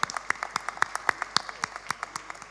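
Sparse, faint applause from a small audience at a hospital talent show, a few distinct claps in a loose, steady rhythm with quiet gaps between them.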